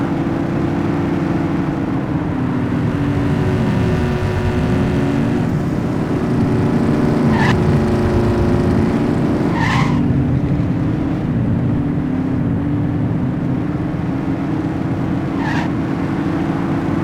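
Racing cars in the police video game Precinct roar past under a constant loud engine drone, with a few sharp tire skids and squeals breaking through now and then.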